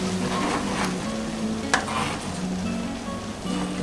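Salsa verde for pozole, made with tomatillos and garlic, stirred in a pot over heat, giving a steady close sizzle with soft scraping strokes throughout and no voices.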